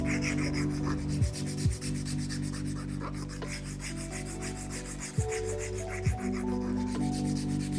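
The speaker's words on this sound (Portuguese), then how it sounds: "vamos lixar a unha na parte de cima para trazer aquele amendoado perfeito" A nail file works the top of a fingernail to shape a rounded almond form, a close, continuous rasping rub with a few brief knocks and shifts as the file changes angle, against a steady background hum.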